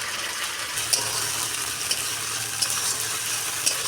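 Meat fries with spices and salt in a pan: a continuous, close sizzle with a few faint clinks and scrapes from stirring, steady throughout.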